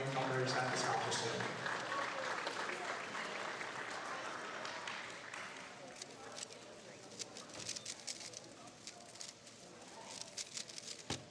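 A crowd applauds newcomers at a cubing championship awards ceremony, dense sustained clapping that gradually thins toward the end into scattered individual claps, with some talk underneath.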